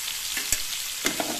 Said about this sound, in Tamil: போட்டு எண்ணெயில் வதக்கிக்கலாங்க.